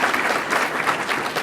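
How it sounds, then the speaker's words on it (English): An audience applauds at a Chicago public event, steady dense clapping from a crowd filling the whole short moment at an even, moderately loud level. "Janice Jackson, let's give her a round of applause."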